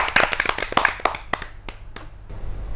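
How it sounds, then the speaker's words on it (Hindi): A small audience at a Hindi poetry recital claps, with sharp close handclaps that thin out into a few scattered claps and then fade into quiet room noise. "तो तालियों की गड़गड़ाहट से स्वागत कीजिए"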